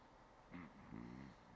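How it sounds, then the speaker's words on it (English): A video game character snores in GTA San Andreas during a house robbery: two short, faint, raspy snores, the second slightly longer, in a quiet room. "My boy's snoring loud."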